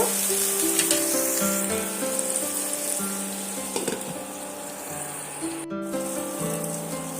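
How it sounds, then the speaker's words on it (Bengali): Brinjal (eggplant) slices fry over low heat under a lid, giving a steady soft sizzle that runs beneath louder background music throughout. "অল্প আঁচে এটা ভালো করে সুন্দর করে লাল লাল করে ভেজে নেব"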